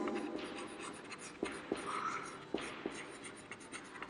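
Pen or pencil scratching across paper in a quiet room during a chemistry lesson, a steady soft scribble broken by a few sharp taps and strokes, close and faint.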